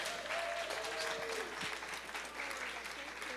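Audience applause at a 32nd anniversary gala for the Kingdom of Kush in New York, honoring Ambassador Didi: a steady, dense wash of clapping hands held at an even level throughout, with faint voices mixed in beneath.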